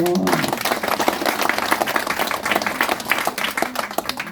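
An audience applauds at a Balinese wayang shadow-puppet show, a loud, crisp spatter of many hands clapping continuously from start to finish, close and lively, with a brief bit of voice at the very beginning.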